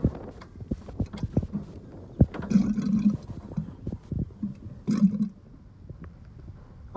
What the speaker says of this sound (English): Now we're going to go ahead and burp the engine.